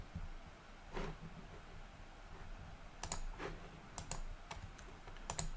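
Quiet keystrokes tapped on a computer keyboard while entering login details, a few isolated clicks early on, then a faster cluster of crisp taps near the end over a low room hum.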